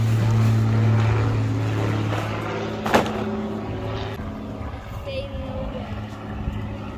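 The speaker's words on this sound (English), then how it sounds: "We got another plane." A low engine drone of an airplane passing overhead hums steadily and slowly fades, with a brief knock and faint voices nearby.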